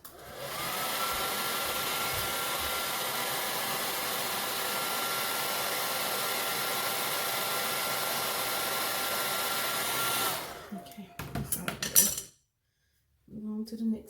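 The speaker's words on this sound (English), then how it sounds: "put the dryer on it." A hair dryer blows steadily and loudly for about ten seconds while drying natural hair, then cuts off, followed by brief clattering handling noises and a short silence.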